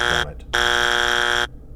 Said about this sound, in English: the final arbiter, which is the buzzer of the bell